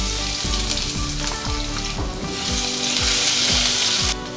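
Ginger garlic paste spits and sizzles in hot oil with cumin seeds for a chole masala, a steady loud frying hiss broken by repeated scraping stirs at a regular pace.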